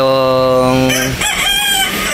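A muff-bearded rooster crows loudly and close by in one strong, harmonic, drawn-out call that breaks into a rougher, raspy ending.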